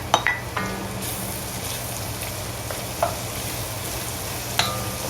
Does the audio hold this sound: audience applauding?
no